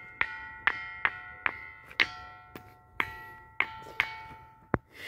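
A ringing stone at Ghanteswar temple is struck repeatedly, each blow giving a sharp metallic, bell-like ping that decays quickly; about eleven strikes in a loose, uneven rhythm, close and clear with no talk.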